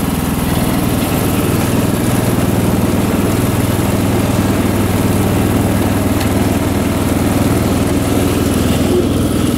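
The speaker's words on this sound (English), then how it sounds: "But this is a really smooth tractor." A 1983 John Deere 214 lawn tractor engine runs steadily and loudly at close range, a constant rumbling drone with no pauses or voices.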